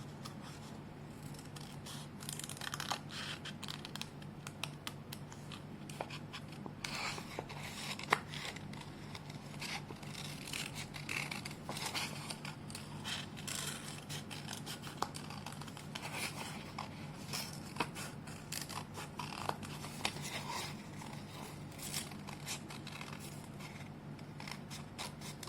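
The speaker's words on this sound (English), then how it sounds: "cut the leaf now." Scissors snip steadily and quietly as a paper leaf is cut out for a kids' yarn caterpillar craft, with many small rapid cuts and rustles that carry on over a long stretch and no voice.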